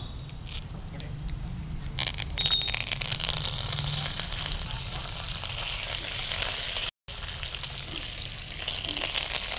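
Curry leaves sizzling and crackling in hot oil as tempering for mango pulihora, a steady frying hiss that swells partway through, with a very brief dropout near the end.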